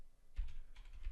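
A brief burst of keystrokes on a computer keyboard while entering an IP address, a few soft close clicks over a faint hum.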